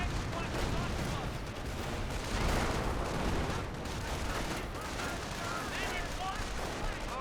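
Continuous rattling small-arms and machine-gun fire with scattered artillery thuds from a Company of Heroes battle between Wehrmacht and US forces, a dense, fairly quiet wash of combat sound.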